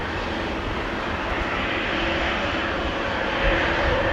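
Boeing 737-800 jet of KLM departing Amsterdam Schiphol Airport on a windy day, a steady broadband engine roar heard from a distance, holding level throughout with a slight swell near the end.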